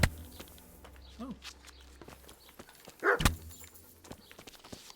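A dog in the medieval video game Kingdom Come: Deliverance gives a short, sharp yelp or bark amid game ambience, footsteps and scattered clicks, with a brief whining sound just before.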